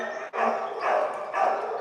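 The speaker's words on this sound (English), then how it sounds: "Let's see some dogs." Several dogs bark at a shelter, with three bursts of close, loud barking in quick succession.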